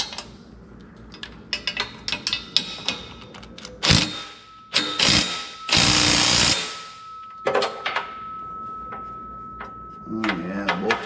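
Wrench clicks and metallic taps on brake booster bolts under the dash of a '54 Chevy Suburban, several short bursts and scrapes close by, with a longer rattling stretch midway and a faint steady whine in the background.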